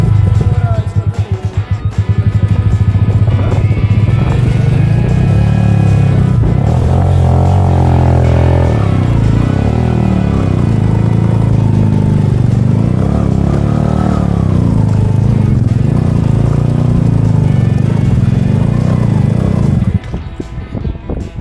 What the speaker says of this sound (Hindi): जिसकी वजह से जो बाइक है वो उस तरह से पिक नहीं पकड़ता जो उसे पकड़नी चाहिए चढ़ाइयों में